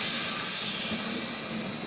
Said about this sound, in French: on peut piloter un drone dans du vent